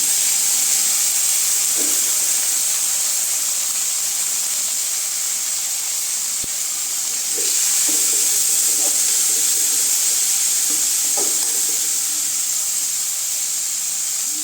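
Tomatoes frying in a pan for oyster mushroom gravy, giving a steady loud sizzle and hiss that runs throughout, with a few soft stirring scrapes.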